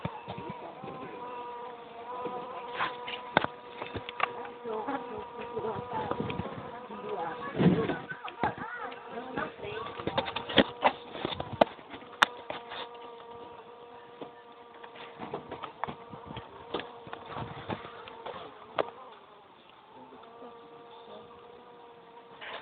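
Jataí stingless bees buzz in a thin, wavering hum near a hive, with scattered louder passes and clicks, and someone speaks intermittently over them.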